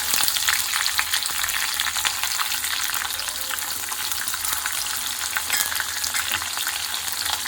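Curry leaves, chopped onion and peanuts fry in hot oil for a tempering, giving a continuous close, crackling sizzle with bursts of popping and no talk over it.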